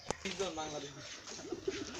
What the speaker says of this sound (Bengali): এই যে এইটা হচ্ছে গিরিবাজ কবুতর